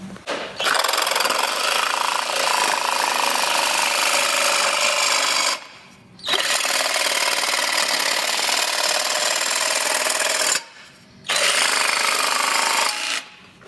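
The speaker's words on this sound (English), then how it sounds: "that means we need the handy dandy sawzall" A sawzall reciprocating saw cuts through an intake pipe on an EK Civic hatch turbo build, running loud and steady in three long bursts with short pauses between them.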